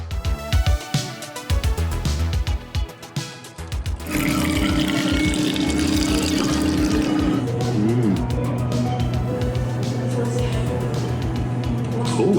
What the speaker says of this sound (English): we came here for the famous chocolate drink, which you can tap straight from a faucet